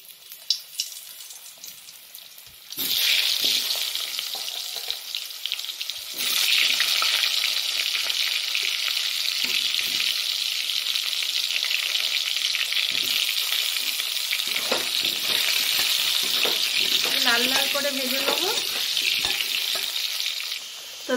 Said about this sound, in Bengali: এবার মাছ ভাজা তেলেতেই কেটে রাখা আলুগুলোকে ভেজে নেবো।